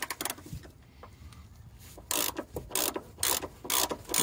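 A ratchet fitted with a 6-point socket loosens a rear shock absorber bolt on a Fiat 500, giving bursts of quick, close clicking that stop and restart, with a pause and some faint handling noise in between.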